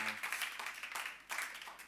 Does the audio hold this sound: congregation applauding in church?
yes